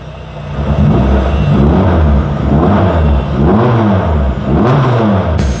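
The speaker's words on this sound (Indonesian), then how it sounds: "Mesin ini galak banget, K24 gila." A Honda Jazz rally car's K24 engine revs hard and repeatedly, loud and close, its pitch rising and falling in steady surges with no talking.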